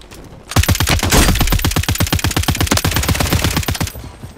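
Rapid automatic gunfire in a first-person shooter video game, a loud, close burst of evenly spaced shots rattling for about three and a half seconds with no talk over it.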